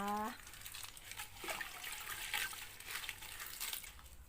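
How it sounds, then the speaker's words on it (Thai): Yanang leaves are squeezed by hand in water for bamboo shoot curry, making soft, faint splashing and squelching that comes and goes, with a brief tonal sound at the start. "เดี๋ยวเราจะมาเตรียมคั้นน้ำยานางเพื่อที่จะได้แกงหน่อไม้นะคะ ใช้มือคั้นเลย"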